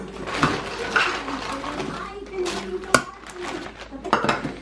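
A spoon stirs pecans and oats in a pot, clattering and scraping in quick irregular bursts, close and moderately loud, with someone talking over it in a home kitchen.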